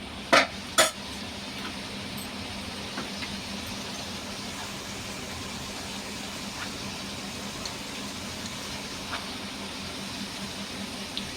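Chili powder being stirred into boti (goat tripe) curry with stewed tomatoes in a pan: a couple of sharp spoon clinks against the metal at the start, then a steady soft sizzle and scraping that carries on alone, with no voices.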